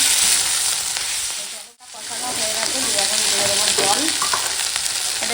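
Ginger-garlic masala paste fries in hot oil for a snakehead fish curry, a loud close sizzle that briefly drops out and then surges back with crackling and stirring scrapes.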